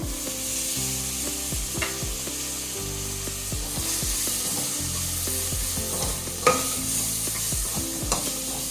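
Tomato frying with spice powders in a pan for dal tadka, a steady sizzle under repeated clinking and scraping of a stirring spoon, close and continuous, no talking.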